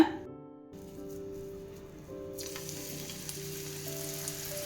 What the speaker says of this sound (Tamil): இப்போ எண்ணெய் காஞ்சிட்ருக்கு, நாம் சுட்டுடலாங்க